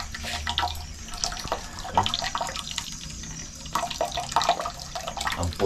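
Running water, very white and frothy, flows steadily with splashy gurgles and drips at moderate volume, without any talking.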